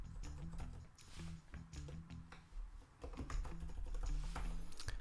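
Rapid, close keyboard typing on a computer during an iOS UIKit app-coding session, with dense clusters of clicks and keystrokes running steadily throughout with no speech.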